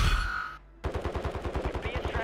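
Automatic gunfire in Call of Duty, a burst of rapid, evenly spaced shots that starts abruptly after a brief lull and keeps up a steady loud rattle.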